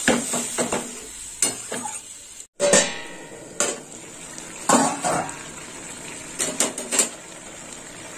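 Chopped ash gourd is stirred in a cooking pan, giving irregular scraping and clattering strokes of a spoon against the pan over a soft sizzle, close and fairly loud.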